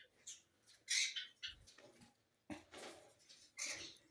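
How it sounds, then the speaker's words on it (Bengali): A pet bird squawks and chirps repeatedly while being fed, giving short, fairly faint calls in irregular bursts with brief gaps between them. "এই যে আরে এটা দুষ্টু পাখি একটা।"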